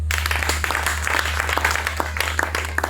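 A church congregation claps and cheers together in praise, a dense, steady patter of many hands over a constant low hum, with sharper claps standing out now and then.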